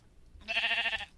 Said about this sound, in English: You're the worst sheepy sheep I've ever seen.